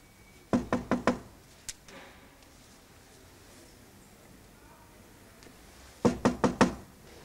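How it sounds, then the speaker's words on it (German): Knuckles rap on a window in a German crime drama scene: a quick burst of four sharp knocks, a lone soft tap, a long quiet stretch, then another burst of four knocks, close and distinct. "Zweite Fenster daneben, wenn Sie klopfen wollen."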